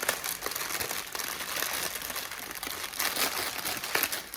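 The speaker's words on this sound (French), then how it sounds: "je vais essayer de bien remettre les diamants dans le sachet pour ne pas les mélanger." Diamond painting drills being tipped back into a small plastic bag produce steady crinkling and rustling of plastic, close and continuous, with no talking.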